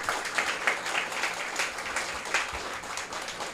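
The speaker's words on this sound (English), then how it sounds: "Let's give these folks a round of applause." Audience at a Wednesday morning breakfast event applauds former Leadership Institute interns as they stand, producing a steady, moderately loud wash of clapping that continues evenly throughout.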